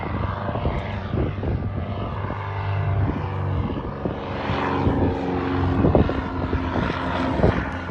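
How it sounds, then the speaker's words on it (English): A propeller plane climbs out of Land's End Airport and flies overhead, its droning engine and buzzing prop loud and continuous, swelling as it passes close above the Cornish coast. "Here comes another plane,"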